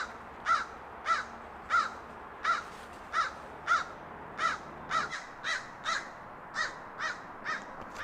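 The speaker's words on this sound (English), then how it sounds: "This bird is not happy about me." A crow caws steadily at a hammock camper in a rainy suburb, about fifteen harsh, evenly spaced calls at close range, alone over a faint background hum.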